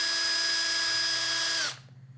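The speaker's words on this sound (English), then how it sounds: "And then you just basically turn the drill on," A power drill twists wires tight against a vise, its steady high motor whine running close and loud for under two seconds before winding down abruptly into quiet.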